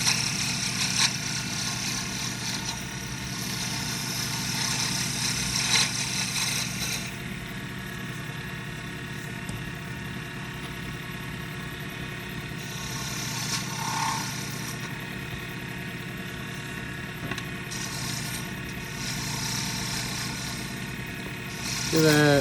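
A wood lathe spinning an Aero pen kit blank while it is roughed out, a steady close motor hum with a sustained high whine and scraping tool contact, plus a brief rattle near the end.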